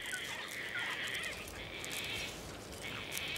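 Gang-gang cockatoos call in coastal heath, their harsh creaky cries running almost continuously near the listener over a steady wind-like hiss, with brief gaps around the middle.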